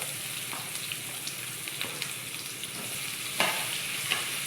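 Chopped onions for chicken keema fry in a pan with a constant loud sizzle and occasional stirring scrapes close by, and nobody speaks.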